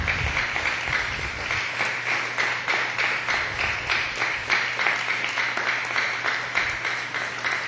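A church congregation gives a rhythmic round of applause to the Lord, many hands clapping in a steady beat, fairly distant and even throughout.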